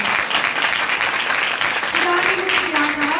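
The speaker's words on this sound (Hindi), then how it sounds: "जोरदार तालियां" A congregation at a Sunday religious sermon breaks into loud, sustained applause, dense clapping filling the whole moment while a voice briefly carries over it.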